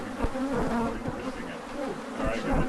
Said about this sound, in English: Always exterminate a feral honeybee hive.